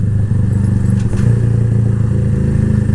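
A Keeway Cafe Racer 152 motorcycle engine drones close and steady, with a clunk as it downshifts from fourth to third gear without rev-matching, and the pitch lurches lower afterward.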